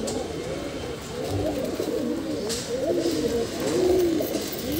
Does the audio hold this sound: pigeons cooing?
yes